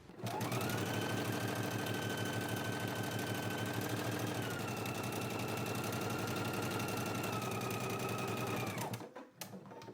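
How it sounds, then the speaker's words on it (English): Domestic sewing machine stitching a 3/8-inch seam to attach pockets onto pants, a close, fast, steady mechanical whir running for about eight seconds before stopping with a few clicks. "Let's go ahead and stitch it in place now."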